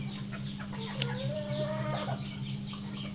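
Tiger-breed chickens and chicks at a poultry farm selling birds, with a steady chorus of close clucking and one drawn-out call over a constant low mechanical hum, and no talk.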